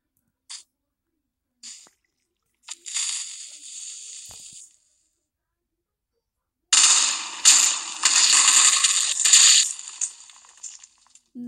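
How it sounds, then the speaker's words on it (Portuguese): TNT blocks detonating in Minecraft, a quiet pop and crackle, then a brief fizzing burst, followed after a pause by a longer loud run of overlapping blasts and crackling debris. "Não, explodiu muito."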